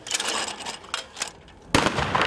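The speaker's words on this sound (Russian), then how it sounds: "Одна мишень, два выстрела." Shotgun blasts at clay targets during a trap shooting tournament, several sharp cracks spaced apart, the last one loud and close with a lingering echo.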